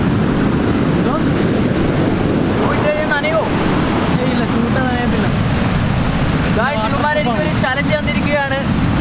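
Sea waves surge and wash onto the shore at Marari beach in Kerala, a steady loud roar of surf mixed with wind buffeting, with a person talking over it.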